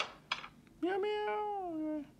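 A single drawn-out cat meow from the video game Ice Scream, rising then slowly falling in pitch, preceded by a short chirp, clear and close with no talk over it.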